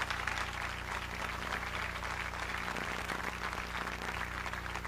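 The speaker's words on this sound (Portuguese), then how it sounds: "Dê uma salva de palmas para Jesus." A church congregation applauds, a dense, continuous patter of many hands clapping over a low steady hum, heard from within the room.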